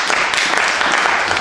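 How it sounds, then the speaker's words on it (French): Audience applause at a provincial assembly gathering in Goma, a dense steady patter of many hands clapping throughout with a faint voice underneath. "Applaudissez-vous."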